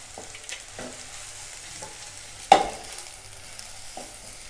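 Powdered spices (chilli, coriander, garam masala, turmeric and salt) lightly frying in a pan, with soft scraping stirs, one sharp clink of the utensil against the pan and a faint sizzle in the background.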